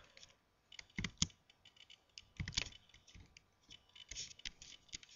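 Keystrokes tapped on a computer keyboard, coming in uneven bursts of quick clicks with short pauses between, close and fairly quiet, with no voice.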